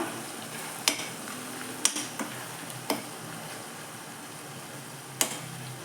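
Hair oil with leaves and flowers heats in a pan, giving a soft steady hiss broken by a handful of sharp crackling pops spaced a second or so apart, fairly faint and close.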